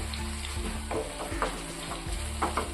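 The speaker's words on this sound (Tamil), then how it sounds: "இப்போ தக்காளி நல்லா வதங்கணும் அது வரைக்கும் நம்ம வதக்கிக்குவோம்" Tomatoes and onions sizzle and fry in a hot pan for fish masala, with a spoon scraping and stirring at intervals, steady and close, no voices.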